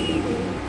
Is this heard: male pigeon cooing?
yes